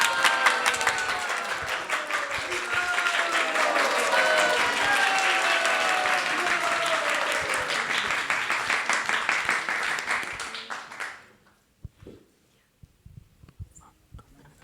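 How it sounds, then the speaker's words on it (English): An audience at a Krishna Katha gathering breaks into loud, sustained clapping that fills the room for about ten seconds, then thins out to a few scattered claps. "round of applause for Yogadish, Prabhu."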